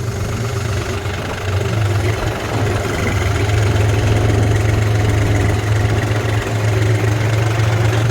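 A tractor fitted with auto steering idles while stopped at the start of maize sowing, giving a steady, loud low engine drone with a slight knocking throb throughout and no talk.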